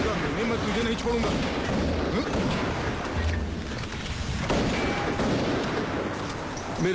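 Gunfire and booming blasts in a Korean action movie shootout, with dense, rough bursts of shots over a continuous loud background. Voices shout in between.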